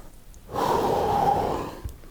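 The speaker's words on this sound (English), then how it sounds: "Nice and slow breathing." Slow, steady exhalation during a morning mobility exercise, a single soft breath swelling in for about a second and a half, close and breathy, alone without talk.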